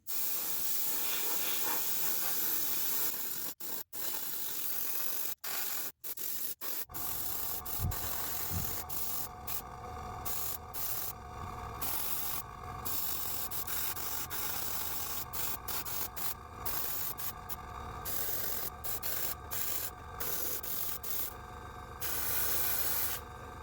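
Spray paint hisses onto a 1:16 Takom Jeep scale model in a steady, close stream that continues almost unbroken, with a few short pauses near the start.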